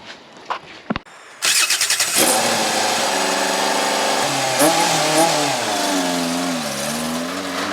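A car engine, jump-started with a jumper pack, cranks and catches after a few faint clicks, then roars loudly and settles into a revving idle that rises and falls.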